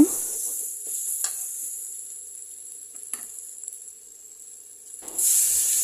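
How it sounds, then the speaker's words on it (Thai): Faint steady sizzling and hissing as southern Thai spicy curry paste stir-fries in a hot pan for a stingray dish, with a few soft clinks, growing louder toward the end. "นำลงไปผัดให้มีกลิ่นหอม"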